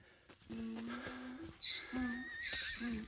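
Horses whinny a few times in overlapping, wavering calls, with animal movement and some background noise around them.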